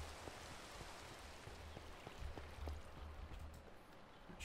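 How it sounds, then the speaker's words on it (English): Steady rainfall in modded Minecraft hisses evenly, with light drop taps scattered through it and no talking. "Hopefully to stop the rain."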